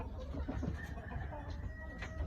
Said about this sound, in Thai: ก็เป็นพ่อไก่ตัวหนึ่งของผมเลย